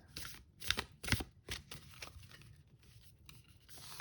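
Paper handling of an oracle card guidebook, a few crisp rustling, flipping sounds with sharp bursts early on, close and fairly quiet, with no talking.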